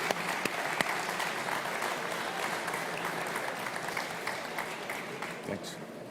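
Steady applause from a conference audience for a panel at an agricultural show launch event, sustained and fairly even for several seconds with no voices over it.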